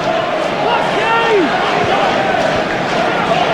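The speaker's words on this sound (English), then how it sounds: "Accentuated by the crowd noise." A football stadium crowd at a 1994-95 Premier League match between West Ham United and Blackburn Rovers gives a steady, distant roar that sits beneath a commentator's voice throughout.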